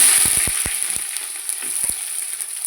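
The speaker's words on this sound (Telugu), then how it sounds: "ఆయిల్ హీట్ అయింది. ఇప్పుడు మసాలా వేసేసుకుంటున్నాను." Spices and onions sizzle in hot oil for chicken mandi, a steady close frying hiss with scattered crackles and pops throughout.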